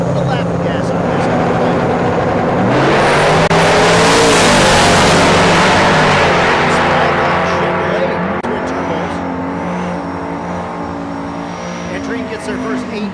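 A 1974 Chevrolet Nova big-block on nitrous roars down a dragstrip, the engine note climbing loud and near before fading as the car pulls away, with an announcer talking over it.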